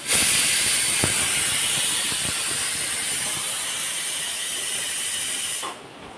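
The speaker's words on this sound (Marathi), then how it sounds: "कुकरच्या पण शिट्ट्या झाल्यात" A pressure cooker vents steam in one long, loud, steady hiss that tapers off and then cuts out near the end.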